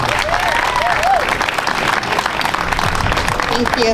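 A crowd at a county fairgrounds ribbon cutting claps steadily for a new fair director, applause loud and close and holding for the whole stretch, with some voices mixed in.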